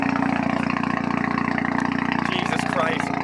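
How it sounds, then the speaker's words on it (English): A car engine idling through a blast pipe exhaust, loud and close, with a fast, steady pulsing rumble and a slightly uneven lope under a voice talking. "This is the idle."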